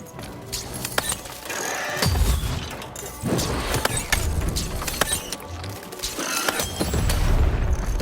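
Heavy cannon blasts from the video game Lost In Random: deep booming shots with crashing, mechanical clatter, three or four loud low thumps spread across a busy game soundscape.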